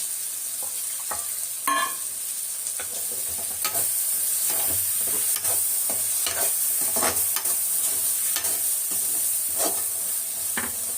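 Masala of ground tomato and onion sautéing in a pan, a continuous close sizzle broken by repeated stirring scrapes and clicks, with no voices.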